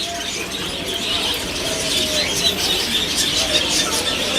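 Black fantail pigeons at a busy bird market in Faisalabad, Pakistan, cooing and chirping amid steady crowd noise and other birds, the calls moderately close and continuous.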